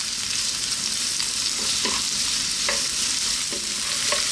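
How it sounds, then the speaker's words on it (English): Onions and garlic fry over medium heat in a pan, with a steady close sizzle and a few soft scraping stirs of a utensil spaced through it; no voices. "Let's get our onions and let's drop them in along with our garlic."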